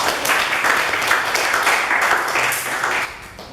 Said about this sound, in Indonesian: Ya, tepuk tangan dulu anak-anak.